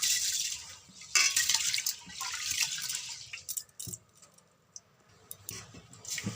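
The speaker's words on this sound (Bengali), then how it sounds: "জল দিয়ে ভালো করে চালটাকে ধুয়ে নিতে হবে" Rice is washed by hand in water, with close sloshing, splashing and dripping that rise and fall in uneven bursts, then gentle trickles and small drips in quieter stretches, with no talk.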